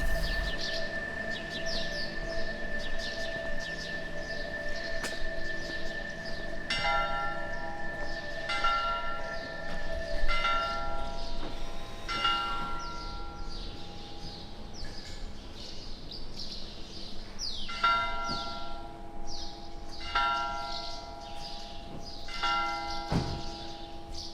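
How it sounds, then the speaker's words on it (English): Church bells ring repeatedly in the medieval town of Besalú, Spain, steady peals carrying through the open air with birds chirping faintly around them. "combined with the sound of the bells does create a nice atmosphere."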